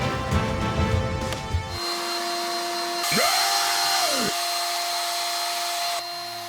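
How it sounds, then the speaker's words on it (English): A battery-powered lithium hair dryer gives a steady, loud blowing whir throughout, with a brief burst of clattering noise at the start and a rising and falling tone partway through. "Lithium battery hair dryer, E36."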